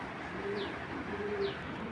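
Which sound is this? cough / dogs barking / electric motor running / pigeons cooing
pigeons cooing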